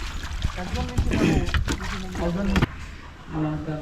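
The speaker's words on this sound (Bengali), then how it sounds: "সবাই এই নৌকা নিয়ে যাতায়াত করে মসজিদে আস্তে আস্তে করে নিয়ে যান" A rowboat moves slowly through the water surrounding a village mosque, with soft splashes and paddle strokes close by under steady nearby talk.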